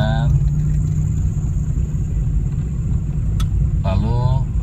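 A manual car creeps forward slowly as the clutch is eased out, its engine giving a steady low rumble close by, with a brief voice speaking near the end.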